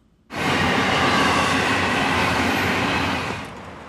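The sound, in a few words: northbound Brightline passenger train pulling into Aventura station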